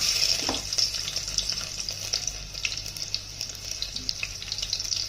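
Garlic cloves, ten or twelve, fry in hot oil in a pot for tempering dal, a steady close sizzle and crackle running throughout with no talk.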